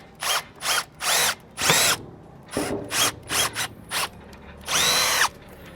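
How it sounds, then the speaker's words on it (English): A cordless power drill bores a hole into an RV door frame in a series of short, loud bursts of whining motor, about ten pulses with brief pauses between them, close up and with no talking. "we're going to go ahead and drill out the center hole right here."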